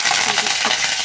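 Panch phoron spices sizzling in hot oil in a pan while cooking aloo dum, a steady dense crackle at close range with no talk.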